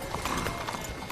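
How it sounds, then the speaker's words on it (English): Horse hooves clip-clop in a quick, close rhythm during a scene of the TV western drama Yellowstone, a short burst of steady hoofbeats. "Get on the horse, Jimmy."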